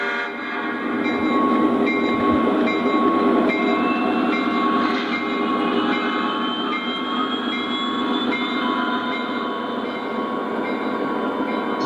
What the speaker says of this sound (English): now we're pulling the hopper cars out that didn't fit into this siding